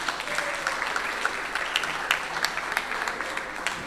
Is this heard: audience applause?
yes